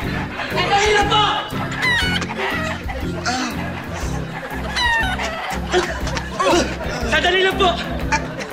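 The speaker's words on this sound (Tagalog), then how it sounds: "yung manok, nakawala!" An escaped chicken clucks and squawks in agitated bursts while it is chased in a comedy sketch, close and lively under overlapping shouting voices and scuffling.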